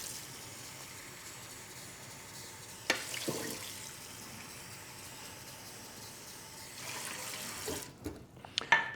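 Tap water runs steadily into a pot of rice for a Ninja Combi, a soft continuous flow that swells briefly partway through and near the end.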